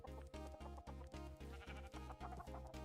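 A sheep bleats in a video game, giving a quick series of pulsing, wavering bleats that run together in a steady rhythm, close and clear.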